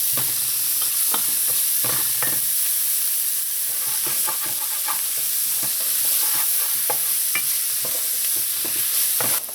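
Garlic and chopped green seasoning sizzle steadily in a hot pan, with a spoon scraping and stirring in repeated strokes over the constant frying hiss.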